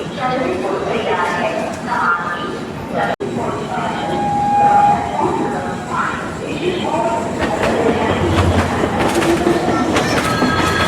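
The Konkan Kanya Express, running Mumbai to Goa, rolls through Kankavli station with a loud steady rumble, rhythmic wheel clatter and occasional squeals, heard up close from on board, with faint voices mixed in.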